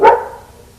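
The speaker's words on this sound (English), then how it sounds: "excuse my dogs, they're just all freaking out back there" A single loud, close dog bark rings out sharply, then decays quickly into quiet room noise, with several dogs carrying on out of view in a house.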